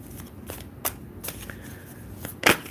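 Oracle cards being shuffled by hand, a few quick riffling bursts and soft card slaps, close and clear, alone with no talking.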